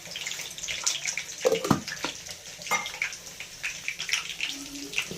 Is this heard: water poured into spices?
yes